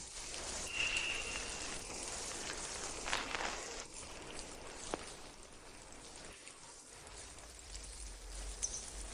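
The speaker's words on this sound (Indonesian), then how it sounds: "Hujan ini turun di halaman rumahku." Rain falling steadily in a house's yard, a soft continuous hiss of drops at low level across the whole stretch, with a few brief louder taps and no voices.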